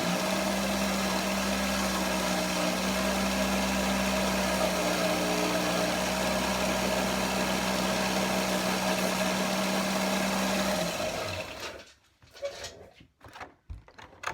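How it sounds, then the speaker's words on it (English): A motorized sander grinds down the edge of a greenstone (jade) pendant left rough by wire cutters, producing a loud, steady whining hum for about eleven seconds before cutting off to quiet handling noises. "What I'll do is I'll just sand this out a minute."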